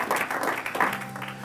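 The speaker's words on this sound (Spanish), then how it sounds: "dale ese fuerte aplauso a Jesús" A brief burst of clapping from a church congregation during a sermon, close and fairly loud, with a few voices mixed in.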